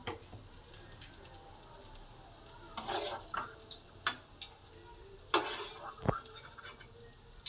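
Shrimp fritters frying in oil over a medium flame, a quiet steady sizzle broken by scattered louder crackles and pops, no talking.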